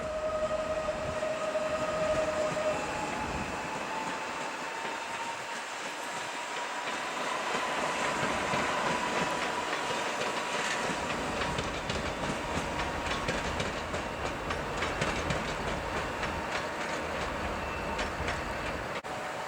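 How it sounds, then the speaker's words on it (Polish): An SKM S2 commuter train passes through Warszawa Zachodnia station in winter with a sustained, loud rumble and rhythmic clickety-clack of wheels over rail joints. A brief tone opens the sound, then it rolls on steadily. "Mamy szybką kolej miejską S2 Warszawa Lotnisko Chopina."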